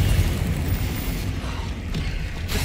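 An explosive blast from the Confringo spell in the video game Hogwarts Legacy, a loud rumbling boom that fills the moment and trails off with mechanical clatter, with no talking.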